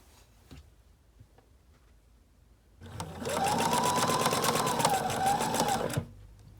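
A sewing machine runs a fixed stitch on a dress seam in one steady burst of rapid needle ticking lasting about three seconds, close by, after quiet handling sounds.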